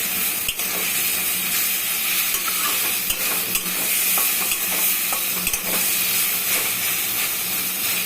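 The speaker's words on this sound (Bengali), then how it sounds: "দিয়ে এখন একটু নাড়াচাড়া করবো" Vegetarian taro leaf ghonto finished with a little ghee being stirred in a pan, a continuous close sizzle and steam hiss broken by regular spatula scrapes and knocks, with no talking.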